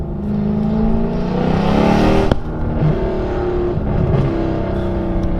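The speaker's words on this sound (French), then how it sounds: "le bruit de cette voiture, les amis." A Mercedes C63 AMG engine revving hard nearby, its deep rumble rising in pitch, then a sharp crack before it settles into a lower burbling idle.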